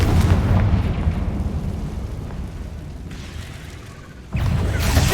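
Confringo fire spell blasts in Hogwarts Legacy, heard as a loud, continuous rumbling boom with a heavy low end that eases slightly before a fresh burst near the end.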